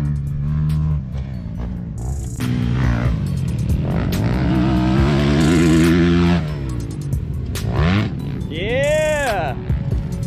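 A motorcycle on a race track at full throttle, its engine roaring loud and close with rising revs and gear changes, and voices talking over it.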